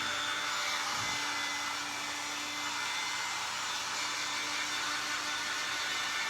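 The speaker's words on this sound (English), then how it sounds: "My dryer goes down on cool air, so we'll do a little cool." A hair dryer running on its cool setting, a loud, steady, close whoosh of blowing air with a faint motor hum and no talk.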